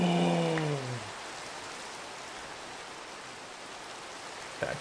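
Rain in Minecraft hisses as a steady, even wash of noise once a fading in-game tone ends, continuing alone to the close.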